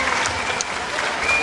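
A wrestling crowd applauds after an equalizing fall, a dense, steady wash of clapping filling the arena with no pauses.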